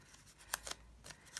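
A few quick scissor snips as paper masks are cut out for card making, two or three crisp close cuts spread across a quiet background.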